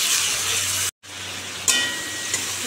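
Tomato hitting hot oil in a pan for a thin fish curry gives a steady loud sizzle that cuts out for a moment and then picks back up, with a few sharper crackling bursts. Nobody speaks.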